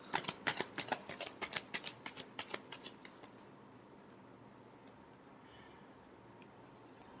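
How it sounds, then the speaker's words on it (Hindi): A deck of tarot cards is shuffled by hand in a quiet room, giving a quick run of crisp, close riffling snaps that grows fainter and stops midway, leaving near-silence. "Last shuffle."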